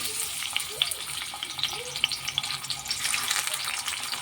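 Dried fish frying in hot oil gives a close, crackling sizzle with scattered pops and a few brief scraping stirs, moderately loud and unbroken by speech.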